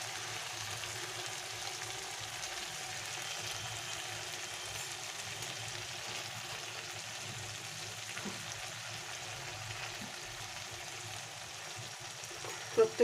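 Pomfret fish sizzling in a pan of thick spiced gravy, a quiet, steady frying hiss that carries on evenly throughout, with a couple of faint clinks right at the end.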